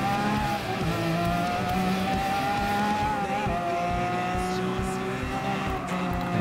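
Lamborghini race car in the GT Sport racing game, its engine holding a steady high-revving drone with a sustained whine, tires squealing faintly at times, loud and continuous throughout.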